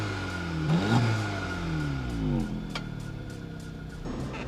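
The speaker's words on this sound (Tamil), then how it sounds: "எக்ஸாஸ்டோட நோட் வந்து வண்டியில் சூப்பராகவே இருக்கும்." A Volkswagen Polo GTI with a dual exhaust revs up and falls back twice, rising and falling engine pitch heard up close, then settling to a steady hum with faint whirring.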